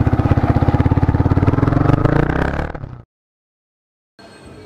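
A fully modified Yamaha R15 version 2 motorcycle with an aftermarket exhaust rumbles loud and close with a rapid throbbing pulse for about three seconds, then cuts off abruptly into silence before a different sound starts.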